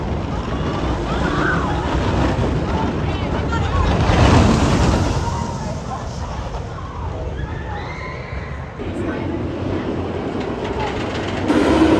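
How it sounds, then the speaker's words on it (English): Wildcat's Revenge roller coaster train at Hersheypark rumbling past with riders, a loud rushing roar that swells in the middle and fades, heard outdoors amid crowd noise and nearby voices. "There goes more riders on Wildcat's Revenge."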